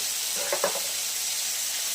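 Ginger-garlic paste hits a pan of softened onion and tomato with a steady broadband sizzle that swells briefly near the middle, close and continuous, with no voices.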